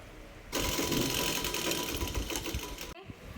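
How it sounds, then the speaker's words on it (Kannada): A sewing machine stitches plain pants fabric in a steady, fast mechanical whir of rapid needle strokes, close and loud. It stops abruptly near the end after a quiet start. "ನೆಕ್ಸ್ಟ್ ಮತ್ತೆ ಇಲ್ಲಿ ರಫ್ ಹಾಕಿ ಕಂಟಿನ್ಯೂ ಹೊಲಿಗೆ ಮಾಡಿ."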